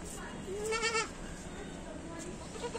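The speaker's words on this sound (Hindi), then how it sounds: "ये एक बकरा, ये दो जो भी जोड़ा है" A goat bleats once at a livestock sale, a wavering mid-pitched call close by, with faint background noise and murmuring around it.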